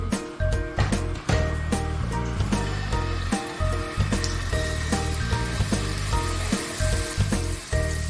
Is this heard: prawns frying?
yes